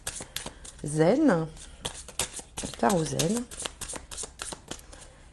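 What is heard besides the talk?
shuffling tarot cards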